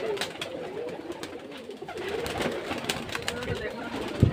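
Crowd of pigeons at a Bangladeshi pigeon farm, low repeated coos blending into a steady murmur of birds, with brief sharp knocks and background voices.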